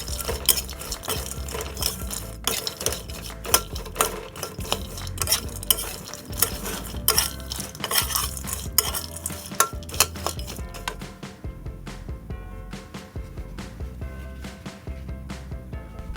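Pork cracklings are stirred with chili paste in a pan over the lowest heat, producing a steady run of scraping and clinking strokes with a faint sizzle underneath, continuous and close, with no talking.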